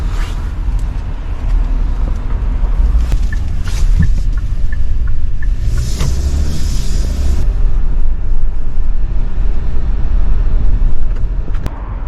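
A new Kia Bongo 3 LPG truck with a high interior top drives along, its steady engine and road rumble droning continuously throughout, with no voices.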